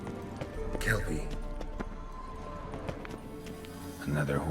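Hooves of the horse Kelpie in The Witcher 3: Wild Hunt, a quick, steady clip-clop of gameplay hoofbeats heard under game sound and a voice.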